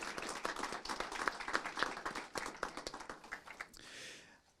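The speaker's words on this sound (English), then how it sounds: "if we could give all of our officers one more round of applause as well" At a city council meeting, the room gives police officers a round of applause: rather faint, somewhat distant clapping with some individual claps audible, lasting a few seconds before fading into room noise.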